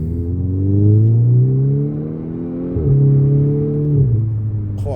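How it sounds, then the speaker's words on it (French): A Volkswagen Golf 6R with a Milltek exhaust accelerates hard, its loud engine note rising through two gears with a brief dip at each shift, heard close from inside with no speech. "La ligne d'échappement, elle est incroyable"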